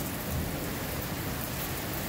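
Steady rain falls outside a house in Norridge, a suburb of Chicago, Illinois, a dense continuous wash of drops with a faint low rumble underneath, no talking.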